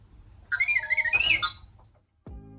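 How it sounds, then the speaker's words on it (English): Electronic R2-D2 droid beeps and warbling whistles as a Star Wars limited edition game console starts up, a rapid burst of chirpy tones about a second long, followed by a short low thud. "So a cool R2-D2 sound"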